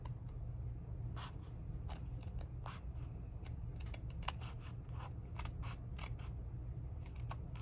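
Scissors snip through paper along a cut line while a spine-bound journal's belly band is trimmed, a steady run of close, crisp clicks and slices in varied rhythm over a low background hum.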